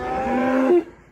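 A single close, drawn-out moo from a cow calling for her calf in a pasture, loud and steady, then breaking off abruptly.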